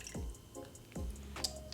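Saline solution drips into a coffee Negroni cocktail, a few close, distinct liquid plops spaced unevenly in the quiet, with no talking.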